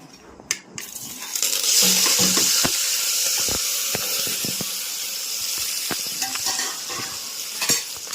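Vegetable khichdi tempering with curry leaves, green chillies, tomato and potato sizzles loudly and steadily in a hot pan, with bursts of crackling and occasional stirring clatter, no talk.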